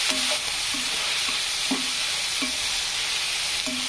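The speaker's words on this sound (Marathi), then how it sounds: "तर असा कांदा छानपैकी लाल होऊ द्यायचा" Onion frying in a pan for a simple home-style vegetable dish, a steady broad sizzle with a few short clinking stirs of a spoon against the pan at irregular intervals, close and fairly loud.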